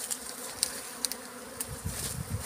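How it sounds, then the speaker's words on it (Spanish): A bee swarm arriving in a tree while being relocated, heard as a steady, moderately faint insect buzz with a few brief higher-pitched bursts and some low rumbling noise underneath. "De este lado que nos llegó el enjambre y nos está llegando"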